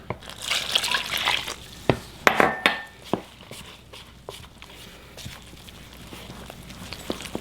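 Water poured into a bowl of bread dough mixture for easy homemade bread, a close, bright splashing pour in a few bursts, followed by lighter drips and trickles.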